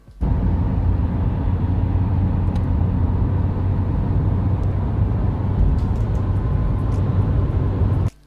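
Recorded inside a moving car: a steady, loud low rumble of engine and road noise runs unbroken for about eight seconds, with no talking, then cuts off abruptly.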